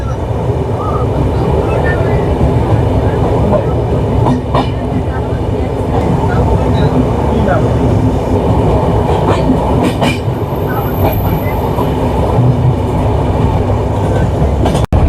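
The 15961 Kamrup Express train passes close by with a continuous, loud rumble of rolling wagons and rail clatter that holds steady throughout.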